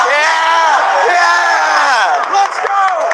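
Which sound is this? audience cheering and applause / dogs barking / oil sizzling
audience cheering and applause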